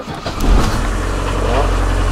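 Diesel engine of a Mercedes 407D van cranking and catching, then settling into a steady low idle rumble close by, with a voice speaking over it.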